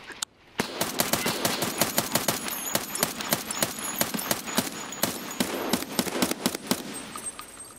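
Rapid automatic gunfire in the shooter game Escape from Tarkov, sharp close bursts of shots rattling almost continuously after a brief quiet start.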